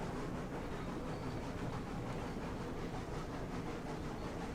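A train in the Railroads Online game rolls around a curve on its tracks, giving a steady, faint rumbling roll with light rattling clatter that holds evenly throughout, with no voices.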